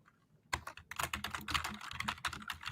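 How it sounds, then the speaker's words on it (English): A computer keyboard typed on very loudly during a sports podcast, starting abruptly after a near-silent moment and then clattering in fast, uneven bursts of hard key strikes close to the microphone. "Justin typing incredibly loudly."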